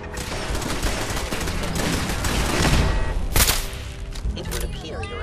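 An Institute turret in the Fallout 4 video game fires a dense volley of rapid gunshots, loud and continuous with a sharp burst in the middle, while game voices talk over the shooting.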